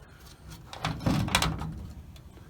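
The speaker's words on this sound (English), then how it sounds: "So I'm going to close the door." A 1936 Chevy Coupe door swings shut with a single muffled thud, a short clunk of metal, close by and fairly quiet against faint background noise.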